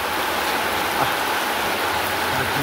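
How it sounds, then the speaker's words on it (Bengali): Rain pours on an autumn morning in rural Bangladesh, a constant broadband wash of drops with a faint running-water tone beneath, close, unbroken and free of speech. "বৃষ্টি হচ্ছে"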